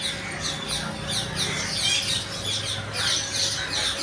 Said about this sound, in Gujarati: આ સામે બધા પોપટ છે.